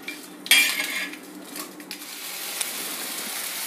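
Dried red chillies, cumin and chopped ginger roasting in a pan for veg momos, with a sharp metallic clink of a utensil against the pan followed by faint steady scraping and stirring, alone without talk.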